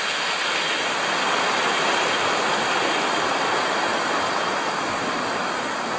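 A mountain stream in a valley on the hike up Eiffel Peak rushes in a loud, steady wash of water noise without pause or talk.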